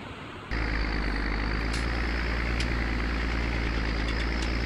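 A tractor engine in Farming Simulator 19 suddenly starts up and then holds a loud, steady low drone while it drives a mower along a bumpy track, with a few faint clicks on top.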